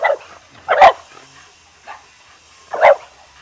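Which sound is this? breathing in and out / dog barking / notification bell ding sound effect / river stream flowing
dog barking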